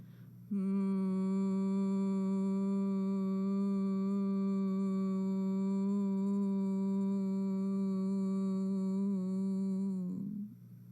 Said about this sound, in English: Again with the humming sound.